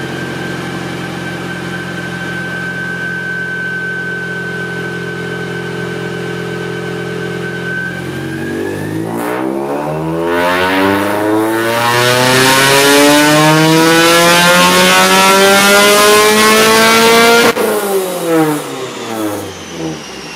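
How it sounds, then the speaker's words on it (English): A tuned, naturally aspirated Mazda NA Miata track car on a dyno holds a steady loud idle. Its engine then climbs in one long continuous rev to a high, harsh scream before the throttle snaps shut and the note falls away. "So we just made our first pull in the Miata."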